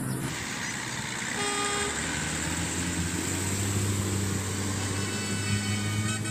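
Toy school bus horn gives a few short electronic toots over a steady background hum, fairly faint and close.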